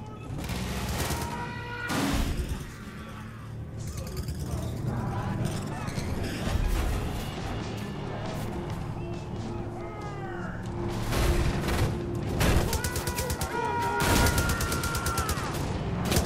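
Sustained automatic gunfire in Far Cry 5 aimed at bliss tanks, bursts of rapid shots with loud bangs and impacts, punctuated by heavier blasts and mixed with game music and voices.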